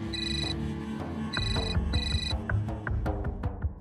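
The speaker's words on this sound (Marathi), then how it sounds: "किती वेळ झाला फोन वाजतोय." A mobile phone rings in bursts of a bright repeating electronic ringtone, three short rings over a busy indoor background of clatter and low sound.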